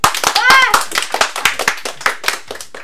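Children at a holiday activity center clap together in a quick, uneven rhythm of sharp hand claps, close and lively, with kids' voices and shouts layered over the clapping throughout.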